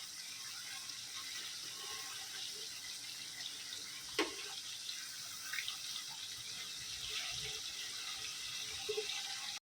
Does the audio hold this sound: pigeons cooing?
no